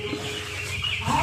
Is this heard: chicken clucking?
yes